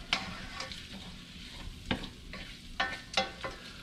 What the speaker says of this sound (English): I'm not really looking to brown the garlic because this is going to cook for an hour anyway.